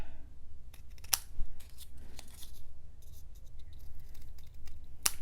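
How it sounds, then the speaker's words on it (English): Scissors snip the corners of folded paper for a mini album craft, a few quiet, separate cuts and rustles spread across a faint, otherwise quiet tabletop scene. "I'm just folding in half and trimming my corners."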